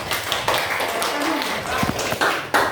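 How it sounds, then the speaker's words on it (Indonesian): A few scattered hand claps ring out in a classroom, brief and close, mixed with voices talking. "Tepuk tangan untuk temannya."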